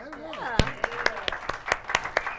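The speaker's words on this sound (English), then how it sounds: "A round of applause for you folks, man." A small audience at a Kizh community evening in El Monte claps in a sparse, fairly regular run of about ten distinct claps, with a voice heard briefly at the start.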